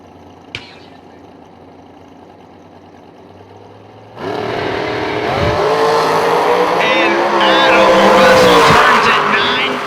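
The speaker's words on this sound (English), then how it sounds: "Once again, this is our top dragster final round." A top dragster roars off the line down a drag strip in a bracket racing final, a sudden loud engine blast with tire squeal building into a sustained, rising whine close by, with a voice audible faintly beforehand.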